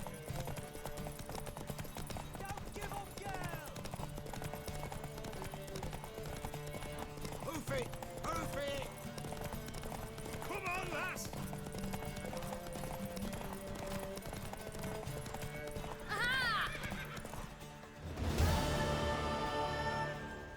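Horse hooves clip-clopping steadily in the video game The Witcher 3, a continuous galloping patter under game music and people talking, with a louder burst near the end.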